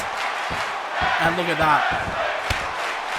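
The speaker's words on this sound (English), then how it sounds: "The crowd chanting tag team wrestling now" Crowd chanting in a WWE 2K22 tag team wrestling match, a broad steady roar under a commentator's voice with rhythmic rising voices in the middle.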